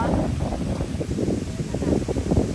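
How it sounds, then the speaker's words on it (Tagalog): Strong autumn wind gusting outdoors near water, a steady broadband roar with buffeting on the microphone throughout, loud and close, with a person talking over it. "ang lakas ng hangin"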